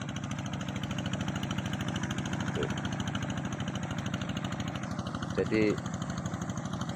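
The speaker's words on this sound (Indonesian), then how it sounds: "terus tanahnya ditarik pakai hand traktor." A hand tractor engine chugs steadily, pulling soil through a swampy rice field, its continuous low rhythmic thrum running throughout with brief speech over it near the end.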